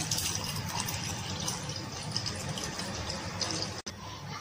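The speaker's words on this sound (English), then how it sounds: "Let's take the milk and pour into the vermicelli," Milk pouring into a pan of vermicelli while making kheer, a steady continuous liquid pour close by with a soft splashing texture that runs almost without break to the end.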